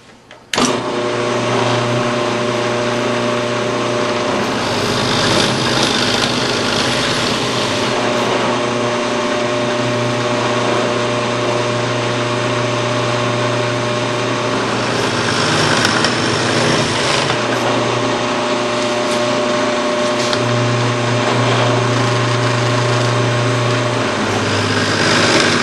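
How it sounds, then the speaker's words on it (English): A power drill fitted with a brad point bit bores a flat-bottomed hole in wood for a Shaker door. A steady, loud motor whine with rough cutting noise runs unbroken for about 25 seconds, with no talking. "I'm using a brad point bit on this because it makes a nice flat hole on the bottom"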